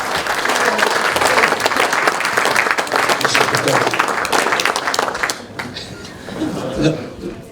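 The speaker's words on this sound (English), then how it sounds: "give you a round of applause to this guy here, Ian Belcher." An audience at a rugby press and practice day in Somerset claps in a full, lively round of applause that fades out after several seconds, leaving a speaking voice and light crowd noise.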